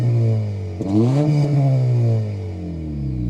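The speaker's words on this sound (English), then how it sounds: "start it up so you can hear that exhaust note" A 2025 Honda Civic Si engine fires up and settles into a steady, loud idle with a strong exhaust note, rising briefly after the start then holding close and continuous with no talk.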